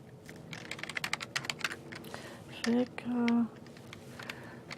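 Rapid clicking keystrokes on a computer keyboard, close and fairly soft, typed in quick irregular bursts while a person speaks and makes a couple of brief hums.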